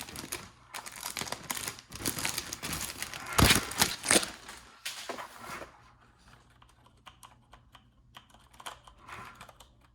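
A Corsair K95 RGB Platinum mechanical keyboard with Cherry MX Brown switches is typed on close up, producing dense rapid clacking bursts that thin into sparser, quieter key presses toward the end.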